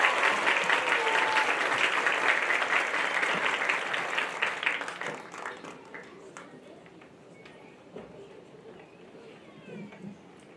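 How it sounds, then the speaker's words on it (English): A crowd at a high school graduation ceremony applauds the graduates with dense, sustained clapping that gradually thins and fades into scattered claps and quiet murmuring. "please join me in giving both of these young ladies one more round of applause"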